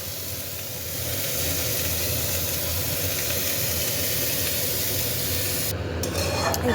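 Raw mango chutney cooks in a pan with five-spice and dried chillies after water is added, making a loud, steady bubbling hiss with stirring scrapes, close by and unbroken by speech.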